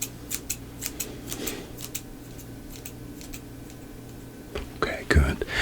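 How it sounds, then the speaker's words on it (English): Scissors snipping close by during a cranial nerve hearing test, a run of quick crisp snips in irregular bursts, with soft whispered talk and a louder cluster of snips near the end. "So I need you to tell me when you can no longer hear the snips anymore."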